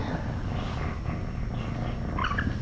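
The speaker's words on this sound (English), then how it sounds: "Holly is purring ridiculously loud right now." A low, continuous purr rumbles steadily and fairly loudly at close range, with no talking.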